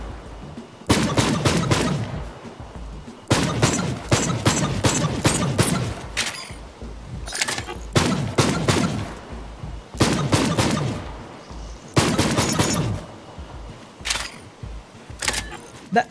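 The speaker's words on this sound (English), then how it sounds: "this weapon shoots a lot like the Fire Mario when he picks up a fire flower" Rapid bursts of legendary weapon fire in Borderlands 3, a gun whose shots sound like Fire Mario throwing fireballs: loud repeated volleys of sharp, bright popping shots separated by short pauses.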